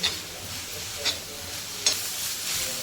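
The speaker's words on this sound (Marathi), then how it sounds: "कांदा असं फ्राय करून घ्यायचं आपण थोडंसं त्याचा कलर बदलला पाहिजे" Onions sizzle steadily in a hot, thick cast-iron pan, with a few sharp scrapes of a spatula stirring them.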